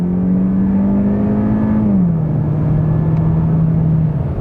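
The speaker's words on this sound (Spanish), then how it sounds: "Si nos ponemos a 70 y pisamos el acelerador" A Mazda 3 Skyactiv-X sedan engine pulls steadily under acceleration from 70 km/h, a loud continuous drone whose pitch dips slightly partway through as it keeps climbing.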